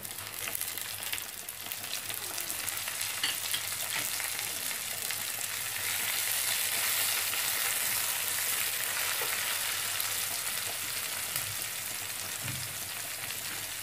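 Tomatoes hit golden-brown onions frying in a pan, a loud, steady close sizzle and crackle that runs without pause, with faint stirring noises mixed in.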